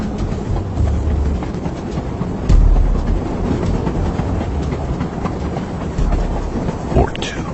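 Train rolling along rails, a steady loud rumble with rhythmic wheel clatter throughout, a heavier thump near the middle and a brief rising squeal toward the end.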